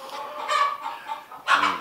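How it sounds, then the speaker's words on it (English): Chickens clucking in a homestead barn in Tennessee, several short squawks and clucks in loose bursts, close and fairly loud, with no talking over them. "the chickens decided all of a sudden to start chiming in"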